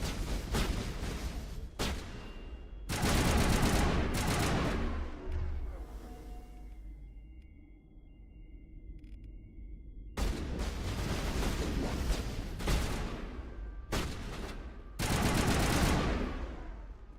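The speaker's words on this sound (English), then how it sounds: "Rex with that shotgun is just devastating." Heavy shotgun gunfire in the sci-fi shooter Mass Effect Legendary Edition, loud bursts and blasts repeating in clusters with a quieter lull midway, close and dense throughout.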